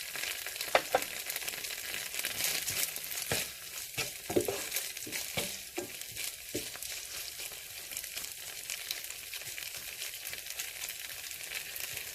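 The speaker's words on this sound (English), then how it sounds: "adding in my curry leaves" Curry leaves fry in a pan of oil for a vegan tofu biryani, giving a steady close sizzle with occasional stirring scrapes.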